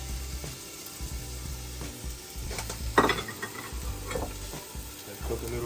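White onions cook in a pot with a lively sizzle, stirred with scraping clatters of a utensil against the metal, close and moderately loud.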